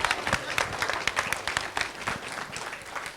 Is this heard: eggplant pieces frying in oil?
no